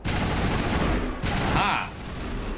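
Sustained rapid gunfire in the video game Mass Effect, a loud dense burst of shots that breaks briefly and resumes, with a voice speaking over it.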